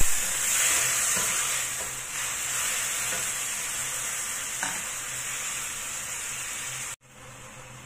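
Bitter melon (ampalaya) cooking in a pan, with a little water added, sizzling and hissing loudly and steadily with faint stirring scrapes, then cutting off abruptly near the end.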